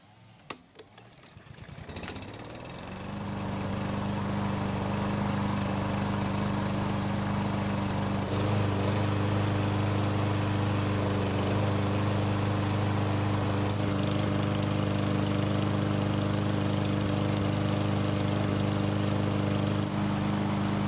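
A Troy-Bilt lawn mower with a new air filter starts on a single pull. After a short rattle its small engine catches and settles into a loud, steady drone that holds close and constant, with no voices.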